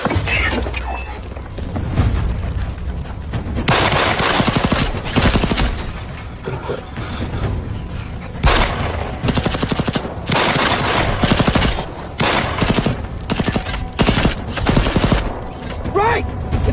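Sci-fi droid firing its gun in an action movie: dense bursts of rapid automatic gunfire with booms and thuds, loud and close, coming in repeated volleys over a rumbling soundtrack.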